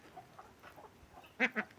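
Ducks on a farm give two short, fairly close quacks near the end after a stretch of faint background calls; no talk.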